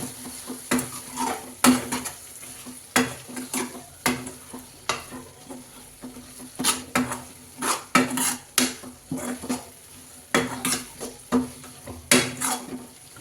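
A spoon stirs batani chaat, a street-style dried pea snack, in a pan on the stove. Repeated metallic scrapes and clinks ring out in irregular bursts over a soft background sizzle, close and fairly loud, with no voices.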